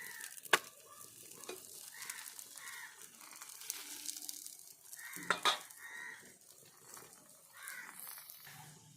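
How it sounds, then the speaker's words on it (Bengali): A mooli paratha roasts on a hot pan with a soft, steady sizzle. Sharp scraping clicks from turning or pressing the flatbread break through it, and faint background noises sound in the distance. "তো দেখুন এই পিঠ ও পিঠ ভালোভাবে আমি সেঁকে নিচ্ছি।"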